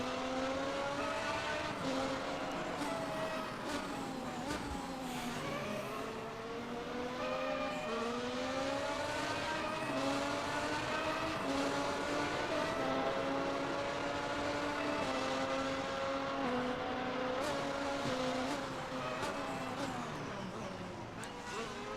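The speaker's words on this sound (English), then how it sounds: "So, we're driving our F1 car." An F1 race car engine in the racing game RaceRoom whines and revs continuously, its pitch rising and falling through gear shifts in a game-like drone that never pauses.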